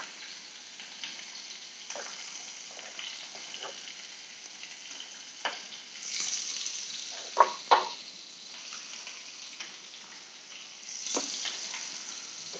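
Olive oil sizzling in a pan while steak fries: a steady, fairly quiet crackling hiss with a few sharper pops and bursts of spitting along the way, heard on its own.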